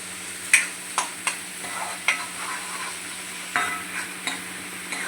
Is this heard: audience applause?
no